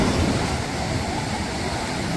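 Sea waves at Calangute Beach in North Goa, a constant broadband rush of surf mixed with wind buffeting the microphone, loud and unbroken throughout.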